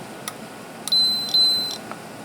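An electronic continuity tester beeps while probing a Roland MC-505 groovebox circuit board for shorts: two sustained high beeps with short clicks around them, over a faint hiss.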